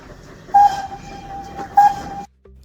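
A steam train at a South Devon Railway station gives two short shrill whistle blasts over a low background rumble, then the sound cuts off abruptly.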